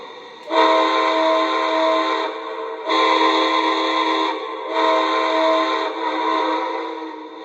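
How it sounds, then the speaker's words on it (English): A model steam train whistle sounds in three long, steady blasts separated by short gaps, loud and close, with no talking. "So here is the whistle"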